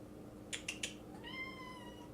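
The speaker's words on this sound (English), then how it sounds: "If you hear that, that's my cat." Domestic cat named Leo meowing, a few short chirps followed by a drawn-out meow, faint and close indoors over a low background hum.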